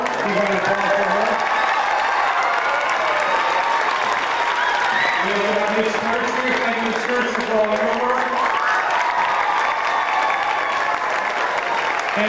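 Audience at an elementary school 4th grade spring concert applauds steadily and loudly for the music teacher, a dense sustained wash of clapping with some crowd murmur and voices mixed in throughout.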